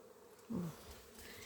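Honey bees flying around beehives in late summer, one bee buzzing close by for a brief, soft moment against a quiet outdoor background.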